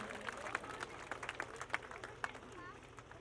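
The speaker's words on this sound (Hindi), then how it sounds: "उनके लिए भी एक बार जोरदार तालियों से स्वागत करें" An audience at a school annual function claps to welcome a guest in a fairly faint, uneven round of applause, with distinct individual claps and a low steady hum underneath.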